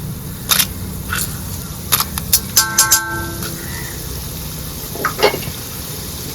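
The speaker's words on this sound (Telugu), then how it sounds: "కొన్ని తాలింపు దినుసులు వేసుకుందామండి దొండకాయ ఫ్రైలోకి" Tempering spices hit hot oil in a pan for an Andhra-style ivy gourd fry, giving scattered sharp crackles and pops over a low background hiss.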